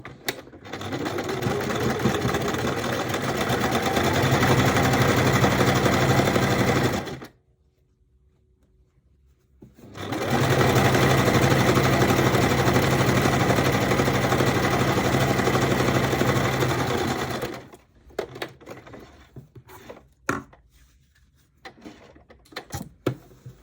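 Sewing machine stitching a double seam in linen shorts: two long bursts of steady, fast motor whir and needle chatter separated by a pause, then brief stop-start runs and handling noises near the end.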